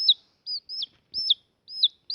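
A chick cheeps in a string of high, bright chirps, about six evenly spaced calls, with a brief soft thump in the middle.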